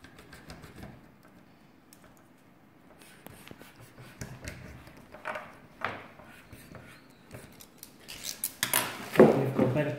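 Cutting EPP foam by hand while building a model eagle plane: soft, intermittent snipping and crunching close by, growing louder and busier toward the end, with no talk.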